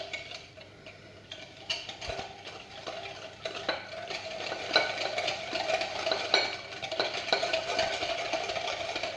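Spoon stirring eggs and sugar in a bowl for an apple cake, a steady close scraping and clinking that keeps going without pause, growing a little busier toward the end.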